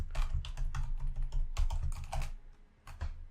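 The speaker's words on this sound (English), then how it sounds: "but I'm typing." Password typed on a school computer keyboard: close, quick bursts of key clicks in uneven clusters with brief pauses, no talking.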